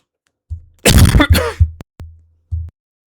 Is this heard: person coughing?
yes